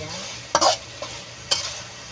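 Food frying in a pan with black pepper is stirred in three short scraping strokes over a steady sizzle, close and moderately loud.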